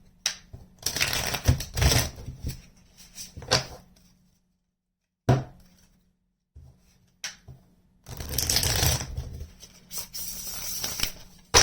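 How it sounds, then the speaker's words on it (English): Tarot deck being shuffled by hand, bursts of crisp riffling and slapping card sounds close by, separated by quiet gaps, with a longer flurry near the end. "That's a good shuffle."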